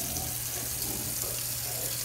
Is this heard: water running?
yes